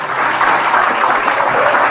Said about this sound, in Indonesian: Oke, kita kasih tepuk tangan dulu lah ya,